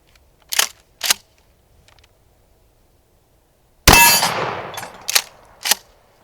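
A single loud blast from a Remington 870 12-gauge shotgun firing buckshot cracks out and decays into a brief echo, framed by sharp metallic clacks of the pump action before and after.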